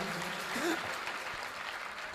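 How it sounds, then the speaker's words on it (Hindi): An audience claps to welcome a visiting temple priest at a devotional gathering on a pilgrimage walk, moderate clapping with voices mixed in over it. "एक बार जोरदार तालियां बजाकर स्वागत करेंगे।"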